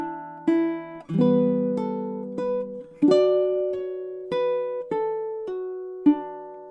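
A baritone ukulele picks a short Irish jig phrase, measures 11 and 12 of Morrison's Jig, as about eight distinct plucked notes in a lilting rhythm, close and clear with ringing sustain and no voices.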